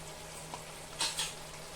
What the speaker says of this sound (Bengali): এখন আমি মশলাটা খুব ভালো করে ভেজে নেব